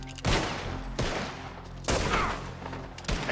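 Gunfire in the video game Red Dead Redemption 2: three sharp, loud shots spaced about a second apart, each with a ringing tail, plus a softer final crack.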